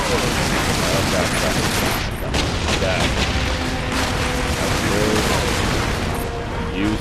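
Enemy gunfire in the Warhammer 40k Space Marine video game: dense, continuous bursts of shooting and explosive booms fill the whole stretch at steady loudness, with rapid mechanical clatter and scattered impacts throughout.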